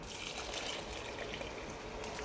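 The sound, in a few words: pouring coconut milk into pot of rice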